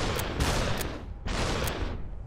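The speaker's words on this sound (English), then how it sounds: "I missed a lot of shots." Several sharp gunshots in SUPERHOT VR crack out close and loud, arriving as a couple of quick bursts with decaying reverberant tails between them.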